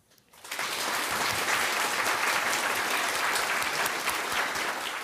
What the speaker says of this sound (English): let us applaud Dr. He's outstanding accomplishments